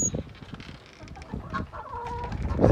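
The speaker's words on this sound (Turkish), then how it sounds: "Tabi bizim burada tavuklarımız da var." Chickens cluck and murmur close by in a busy, overlapping chorus, with scattered bird chatter and farmyard noise throughout.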